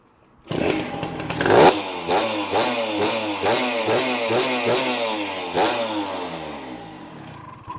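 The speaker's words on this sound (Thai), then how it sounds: "เมื่อเราติดตั้งท่อเสร็จแล้วนะครับ เรามาฟังเสียงกันครับเพื่อนๆครับ" An LS V8 engine revs through a newly installed custom-built exhaust, blipping up and down in repeated rising and falling sweeps, loud and close, with no talking.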